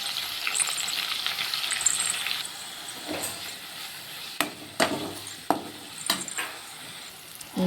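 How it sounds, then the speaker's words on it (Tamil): Onion and tomato sautéing in a pan for semiya upma: a steady sizzle with hissing steam, then a few sharp spatula scrapes and stirs standing out toward the end, close and fairly quiet. "தக்காளியும் நல்லா வதங்கட்டும்"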